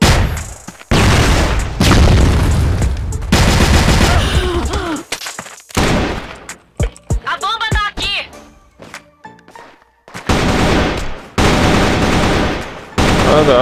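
Explosions and gunfire from a shooter video game, including a flashbang grenade, sound as loud bursts of rapid shots and heavy booms that cut in and out, with brief sharp tones between them.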